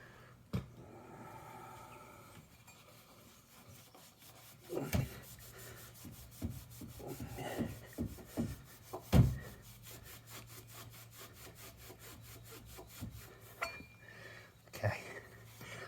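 A hand rubs metal polish onto a car exhaust tip, a faint close series of rhythmic rubbing strokes with a few louder scuffs and knocks in a quiet room.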